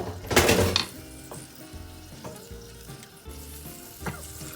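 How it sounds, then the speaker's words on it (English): Spaghetti clam sauce in a pan coming back to a boil, sizzling and bubbling steadily up close, with a louder burst at the start and a few soft utensil clinks, no talking. "Now, let that come back to a boil."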